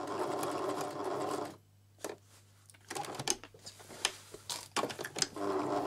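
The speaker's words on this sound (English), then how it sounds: "So I'm going over my stitching again because it wasn't very straight there." A sewing machine restitches the seam of a wrap skirt in short bursts, quiet rapid whirring runs separated by pauses, close and alone without talk.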